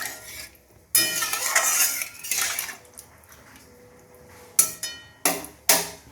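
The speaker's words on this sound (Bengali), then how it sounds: "জল অ্যাড করে দিলাম, খুব ভালো করে নাড়িয়ে নেব" A metal spoon stirring ash gourd peel curry with added water in a pot, loud clattering scrapes in one long burst, then a quiet gap and several sharp separate knocks against the pot's rim.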